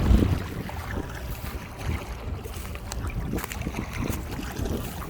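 Wind blowing along the Han River at a riverside deck in Banpo park, a steady broadband rush and buffeting against the microphone with no voices.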